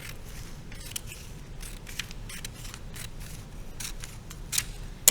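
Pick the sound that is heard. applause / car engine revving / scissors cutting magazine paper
scissors cutting magazine paper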